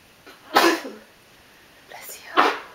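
Two sneezes, apparently from a baby, come indoors with a short pause between them; each is a quick, breathy burst at moderate loudness.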